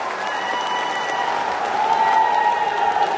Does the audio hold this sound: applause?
yes